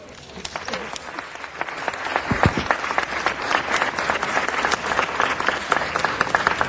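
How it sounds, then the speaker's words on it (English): Audience at a Los Angeles city council meeting breaks into steady applause, dense clapping building slightly and holding at full strength throughout, with a few brief voices mixed into the crowd. "So now I'd like everybody to give a round of applause to LA Works"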